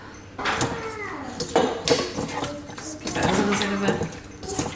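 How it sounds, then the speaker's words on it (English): A spoon stirring a honey and brown sugar marinade in a bowl, with close scraping and clinking strokes under someone speaking. "So I'm gonna stir that up."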